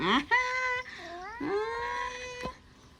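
A pet cat outdoors meows in several drawn-out, wavering cries, close and fairly clear, with a short sharp sound near the end and quiet garden background.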